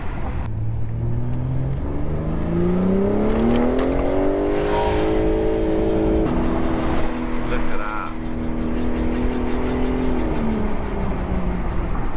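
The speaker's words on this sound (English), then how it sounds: "The exhaust on this car sounds insane, mixed up with the induction noises." A sports car's exhaust roars and climbs through the revs, mixed with induction whoosh, loud and close; a voice speaks briefly over it.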